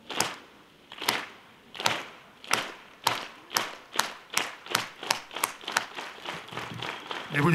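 An audience claps along in unison, a steady string of sharp, evenly spaced claps that quicken slightly and grow denser toward the end, moderately close and fairly loud.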